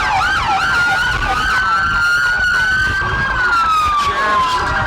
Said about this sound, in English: We're going to have more sirens after that.